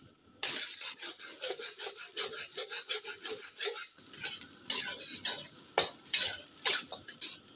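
Beaten eggs for fried rice are stirred in a pan, with repeated rhythmic scraping and tapping of a utensil against metal, fairly quiet and close, without a strong sizzle.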